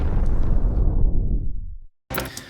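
Boom hit from an action film score: a huge, low rumbling impact with a long decaying tail that fades to a brief silence, then a bright new burst of sound starts right at the end.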